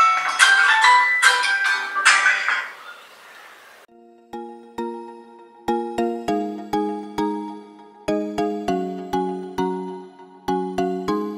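A mobile phone rings with a bright, repeating melodic ringtone, loud and close, with short chiming phrases that pause and restart in regular bursts after a brief noisy opening.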